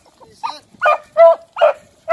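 A hunting dog gives a series of about five short, evenly spaced barks, close and clear against a quiet background.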